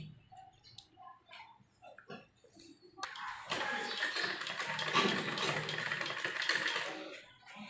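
After a few seconds of quiet handling noises, a sewing machine starts up and runs with a steady, whirring rhythm, stitching the lining of an embroidered kurti suit.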